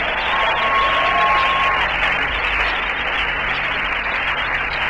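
A church congregation applauding and acclaiming after a sermon reading on tithing, a dense, steady wash of clapping and crowd voices filling the room at full volume throughout.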